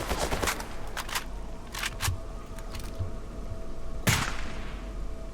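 Scattered gunfire in the S.T.A.L.K.E.R. Anomaly game, several sharp shots at irregular intervals, some distant and quick in pairs, followed by one louder, closer crack.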